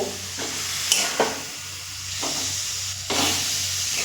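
Boiled taro leaves (kochu shak) cooking in a pan for a vegetarian dish sizzle steadily while a spoon scrapes and stirs in several distinct sweeps, close and clear, with no voices.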